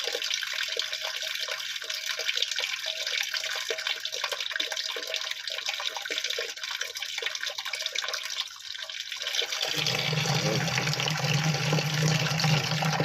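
Water flows steadily through a homemade filter fed from three drums, a continuous splashing rush that swells into a louder, fuller pour partway through, with no voices over it.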